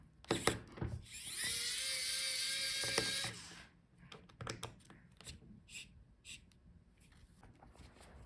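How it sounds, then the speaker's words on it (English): Screws on a Lenovo ThinkPad P1 Gen 3 laptop battery are unscrewed with a small power driver: a thin whirring burst of about two seconds, then quiet clicks and handling taps. The sound is faint and close. "So unscrew the screws."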